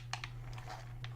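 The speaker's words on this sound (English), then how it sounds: "So you're probably hearing my keyboard" A few sharp computer keyboard clicks tapped out irregularly, close by, over a steady low electrical hum.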